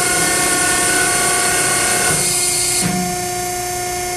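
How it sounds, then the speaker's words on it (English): Bed of a flat-sheet welding seamer lowering into position, giving a loud steady mechanical hum and whine that shifts and eases off toward the end as the motion stops. "To lower the bed into position to start your weld sequence after you've loaded your parts,"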